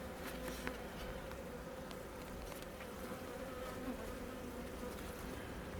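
Honeybees buzz continuously from a brown hive opened for a spring inspection, a steady, close drone of many wings with a few faint clicks of handling.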